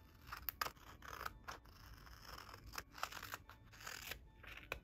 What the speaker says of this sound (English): And now we're gonna cut these in the middle to split them in half.